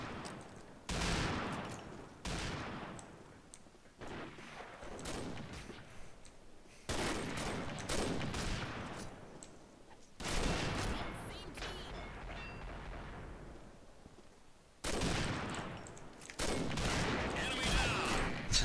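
Heavy gunfire from the online shooter game Combat Arms: dense, loud bursts of automatic fire and explosions in several rapid salvos separated by brief pauses, with a faint voice occasionally underneath.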